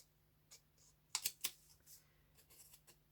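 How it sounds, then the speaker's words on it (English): Scissors snipping paper for a collage, a few sharp close clicks and snips in a quick cluster with scattered quieter cuts around them, and no one talking. "I'm going to snip into the panes"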